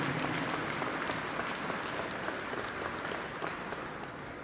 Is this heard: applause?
yes